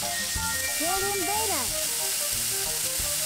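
Shrimp sizzle in a pan in the Cooking Mama: Cook Off video game, a steady bright frying hiss lasting throughout, with short game tones and chimes over it.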